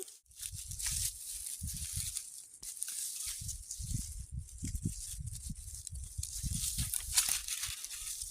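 A plastic bag crinkles and rustles steadily as it is handled and folded during a mushroom-picking walk in the forest, close up and continuous with no talking.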